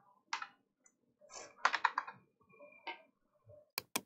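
Scattered keystrokes on a computer keyboard while writing text in MS Paint, sparse separate clicks and short bursts, quiet and close, with silent gaps between them.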